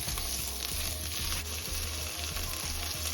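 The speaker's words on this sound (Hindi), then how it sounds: "इन्हें ऑयल में थोड़ा सा रोस्ट कर लेंगे" Two vegetables for navratan pulao roast in hot oil, giving a steady, close, dense sizzle with faint stirring scrapes and no talking.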